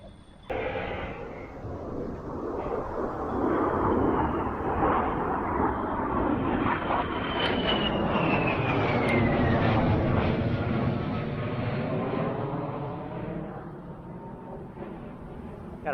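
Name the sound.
F-18 fighter jet flyby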